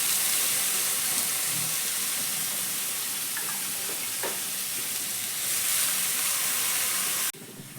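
Grated raw potato, squeezed of its water, drops into hot spiced oil in a pan and sets off a steady, close sizzle with a constant frying hiss. Faint stirring is heard, and a knock comes near the end.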